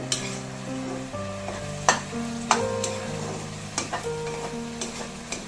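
Masala for mutton keema sautéing on low heat in a pan, a soft steady sizzle with scattered spoon clinks and scrapes as it is stirred, while low steady tones run underneath.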